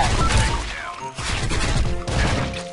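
Rapid bursts of gunfire from a gold-finished gun in the online shooter Special Force 2, loud and dense, broken by two short gaps, with a voice faintly underneath.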